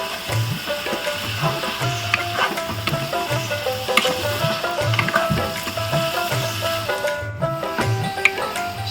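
Red amaranth leaves fry in a pan with a loud, close crackling sizzle, broken by rhythmic scraping stir strokes repeating about every second, with no talking.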